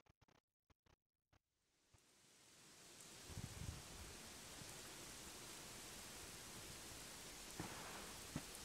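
In the video game Dragon Quest 11, after a few sharp clicks, steady rain rises into a dense, even hiss that continues without a break.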